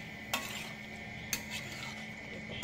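A spoon stirs chicken curry with mustard seeds in a pan, giving a few sharp metallic scrapes and clinks over a low steady sizzle, quiet and close, with no talk.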